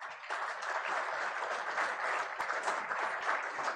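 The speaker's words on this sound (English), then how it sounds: "I see only this side clapping, not this side." An audience at a political speech about Rajasthan and a 2036 Olympics bid claps in a dense, continuous patter of moderate loudness that holds steady throughout.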